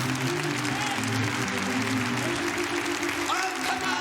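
A church congregation applauds, a steady dense clatter of many hands filling the room throughout, with a voice speaking over the clapping.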